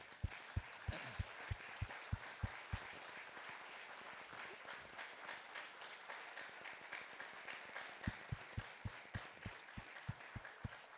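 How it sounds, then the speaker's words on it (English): Clapping from an audience honoring the Glendale Police Department chief and officers, scattered distinct claps at first and near the end with a softer, fuller stretch of applause in between, fairly faint and without talk. "give them a round of applause"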